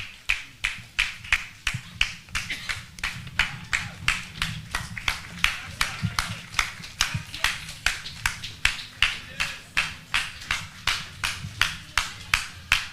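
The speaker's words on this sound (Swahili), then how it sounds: "Tuwapigie makofi." An audience at a reality-show launch event claps in a steady, evenly spaced rhythm, about two or three beats per second, sharp and close, sustained for the whole stretch with faint voices beneath.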